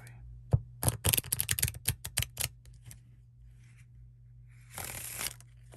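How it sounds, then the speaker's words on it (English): Playing cards are riffled and shuffled up close in a quiet room, producing a rapid burst of crisp flutters and snaps. After a pause, a second, softer riffle follows, over a low steady hum. "That was a proper shuffle."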